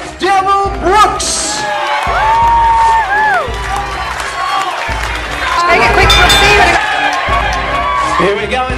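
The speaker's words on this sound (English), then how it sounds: "Ladies and gentlemen, give a big round of applause for David the Red Devil Brooks." A boxing crowd cheers and whoops for a fighter's entrance, loud and sustained, with shouts rising over the din and a voice or music line running through it.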